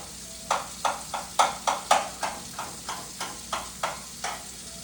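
Ground turkey sizzles in a hot pan as a utensil breaks it up, giving a steady run of about a dozen sharp scraping, crackling bursts in an even rhythm, close and clear with no talking.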